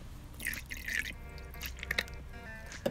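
Faint water drips and light trickling come from a kitchen where hot lemon water is being made, a few soft irregular drops against a quiet background.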